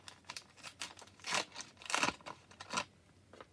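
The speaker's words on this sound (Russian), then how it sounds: "давайте сейчас откроем этот пакетик" A paper packet being torn open and crinkled, several sharp rustling tears and crumples in uneven bursts, close up and moderately loud with quiet gaps between.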